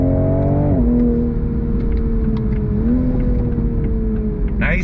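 A 2022 Toyota GR Supra engine blips and rises in pitch on downshifts, loud and close from inside the car, with two distinct rev steps over a steady drone.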